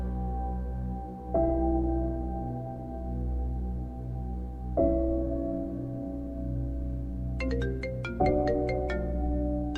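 An outgoing telephone call rings out with a steady, repeating electronic ring tone, clear and alone, with a brief burst of higher chiming tones near the end.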